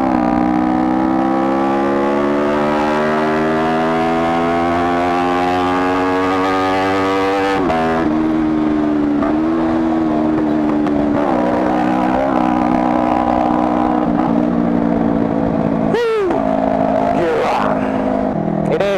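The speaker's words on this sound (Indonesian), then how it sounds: "asli dari motor bacot bet knalpotnya, bacot bet bacot knalpotnya" Custom Kawasaki Ninja 250R streetfighter motorcycle with a loud aftermarket exhaust on a Sunday morning ride, its engine note held steady and rising for several seconds, then shifting and wavering through gear changes, loud and close with no talking.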